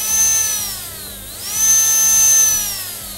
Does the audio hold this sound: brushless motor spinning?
yes